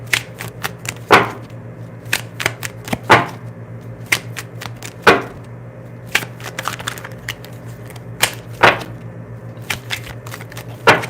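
A tarot deck is shuffled close up in irregular bursts of crisp card riffles and slaps, separated by quieter pauses over a low steady hum in the room.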